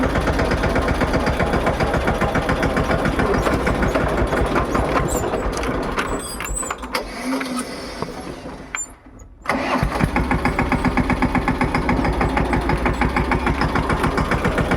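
A tractor that has been breaking down on a rough, waterlogged road strewn with stones runs loudly and steadily up close, sags and briefly cuts out around the middle, then picks back up to a steady running rhythm.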